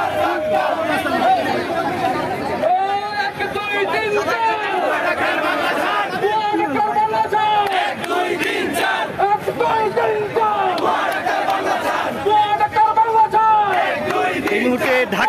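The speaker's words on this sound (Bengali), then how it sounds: "তারা স্লোগান দিচ্ছে তুমি কে আমি কে," Marching doctors chant slogans in unison at a rally heading toward the health ministry from the Shaheed Minar in Dhaka, a loud, dense crowd of voices with rhythmic shouted calls and steady chatter.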